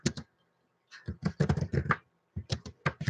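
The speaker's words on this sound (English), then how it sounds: "I'm typing and my cursor isn't in the box" Short bursts of clicking keystrokes on a computer keyboard, close and fairly quiet, coming in quick clusters separated by brief pauses.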